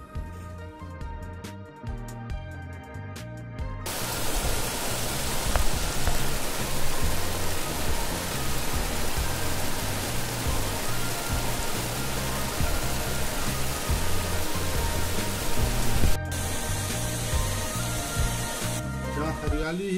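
Mountain waterfalls at Bhim Dwari on the Shrikhand Mahadev yatra route pour in a steady, dense rushing roar that surges in near the start and holds loud and unbroken to the end.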